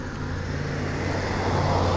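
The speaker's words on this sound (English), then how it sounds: "There's another bus!" A bus or other heavy vehicle passes on a street on the first day of school, its broad engine rumble steady and fairly loud throughout, with no voices.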